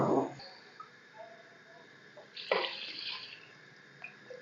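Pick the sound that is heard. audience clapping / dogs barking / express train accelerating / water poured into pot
water poured into pot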